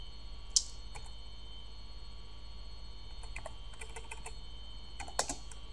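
A few scattered keystrokes on a computer keyboard enter a terminal command, soft and close, with short bursts and pauses over a steady electrical hum.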